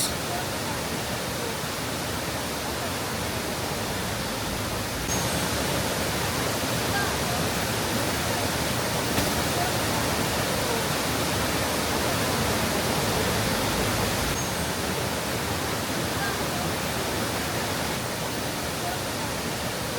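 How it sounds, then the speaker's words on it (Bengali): Steady, dense rushing of water falling down the tiered Ravana Falls near Ella, Sri Lanka, fills the whole clip, a broad continuous roar with no pauses, loud and close. "রাবানা ফলসে কয়েকটি ধাপে পানি ভূপৃষ্ঠে পতিত হয়"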